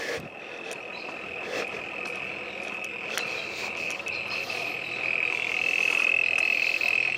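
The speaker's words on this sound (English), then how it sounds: "the mob crickets are still going" A steady, high-pitched chorus of crickets trills continuously, with faint scattered calls and a low background hum.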